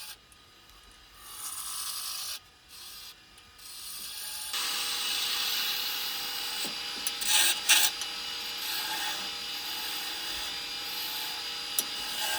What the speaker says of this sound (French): Travail à la plane